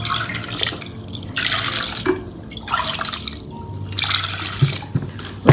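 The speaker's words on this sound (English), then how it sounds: "we are going to add 3 cups of water" Water is poured into a mixing bowl while making a kuih batter, in a series of splashing pours with short pauses between them, close and fairly loud.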